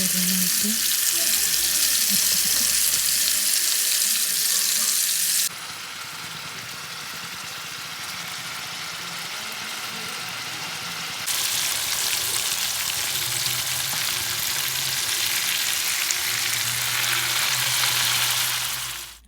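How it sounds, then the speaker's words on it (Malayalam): Fish fries in hot oil with curry leaves in a pan on the stove, giving a loud, steady sizzle close up that shifts level a couple of times and then cuts off at the end. "ഫ്രൈ ചെയ്യാൻ വേണ്ടിയിട്ട് പാനിൽ അടുപ്പത്ത് വെച്ച് എണ്ണ വെച്ച് ചൂടാക്കിയിട്ട് അത് വേപ്പിൻ്റെ കറിവേപ്പില ഇട്ടിട്ട് പിന്നെ ഫ്രൈ ചെയ്യുക"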